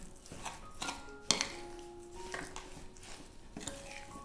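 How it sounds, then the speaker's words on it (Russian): A spoon scrapes and clinks against a bowl as cottage cheese filling with sugar, vanilla sugar, egg and starch is stirred by hand, with soft irregular strokes and one sharper clink. "К творогу добавляю сахарный песок, ванильный сахар, яйцо и крахмал. Все тщательно перемешиваю."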